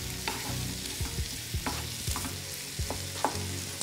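Onions and vegetables sizzle steadily in a hot pan while a utensil scrapes and stirs them in irregular strokes, close up, with no voices.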